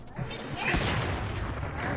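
Shotgun blasts in a video game ring out as dense, rough bursts over steady game noise, with players talking throughout.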